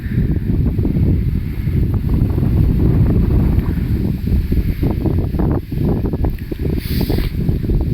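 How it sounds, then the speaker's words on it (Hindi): Strong wind blows across a wheat field during the crop's fourth irrigation, roaring and buffeting the microphone in loud, gusty surges, with no one speaking. "और हवा देख सकते हैं कुछ"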